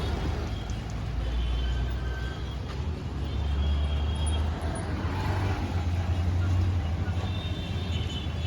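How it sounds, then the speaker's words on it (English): Steady roar of traffic on a congested Pune street, engines rumbling continuously at close range with faint horns and brake hiss scattered through the din. "traffic congestion has become a daily challenge"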